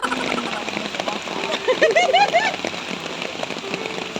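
Rain falls steadily on a busy street in Mong Kok, Hong Kong, a dense close hiss of drops on surfaces, with faint voices and street noise mixed in.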